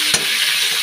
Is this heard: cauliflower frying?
yes